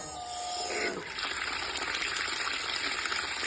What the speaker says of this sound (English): This is the normal running when the pump works for the water pumping applications.